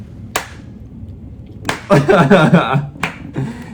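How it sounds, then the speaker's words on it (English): A few sparse, deliberate claps in the video game Hooked on You, spaced apart in a slow rhythm, with a voice talking in the middle. "Slow clap."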